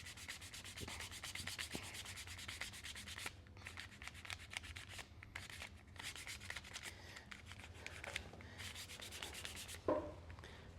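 Steady rhythmic rasping of sandpaper wrapped around a stick, rubbed back and forth on leather, close up, continuing in repeated strokes with brief breaks.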